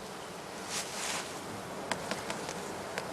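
Honey bees buzz softly around a heather skep hive in a spring apiary, a faint swarm drone broken by a few brief, louder passes of single bees flying near.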